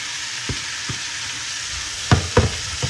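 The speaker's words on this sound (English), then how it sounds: "we're gonna let these saute all the way down" Food sautes in a Hexclad pan with a steady sizzle, while a utensil stirs and scrapes it in several sharp knocks, two louder ones near the end.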